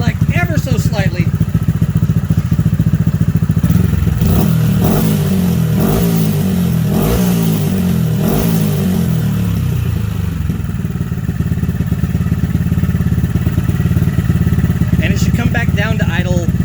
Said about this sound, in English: as soon as you let off the throttle, it should come back down to its resting idle